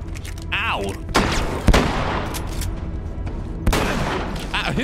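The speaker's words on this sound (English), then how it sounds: "Who is shooting at me?" Gunfire from enemies in the video game The Last of Us, a burst of sharp loud shots and booming impacts landing close, mixed with game effects and a player's exclamations.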